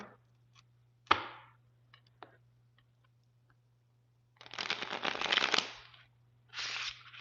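A deck of playing cards is shuffled in a riffle, with a sharp flick first and then two rapid fluttering bursts of cards interleaving, close and crisp against a low steady hum.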